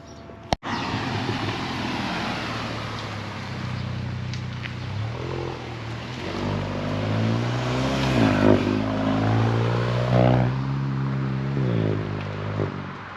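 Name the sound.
2022 VW MK8 GTI with Racingline intake, muffler delete driving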